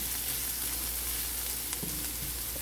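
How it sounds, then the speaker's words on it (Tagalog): Garlic sautés in a pan with a constant, close frying hiss and a brief utensil clink near the end, no voices. "So in this process, we call this one sauteing process or caramelization process, or tinatawag ng other term is sweating"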